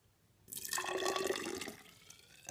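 Liquid pours briefly into a container with a bubbling, splashing sound, fairly close and soft, trailing off quickly.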